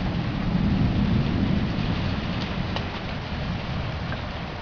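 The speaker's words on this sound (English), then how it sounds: "I've never seen a storm like this." A thunderstorm rumbles outside a house on a hot day, seen from the front porch, with a low roll of thunder under steady, loud rain that keeps hissing as the rumble fades.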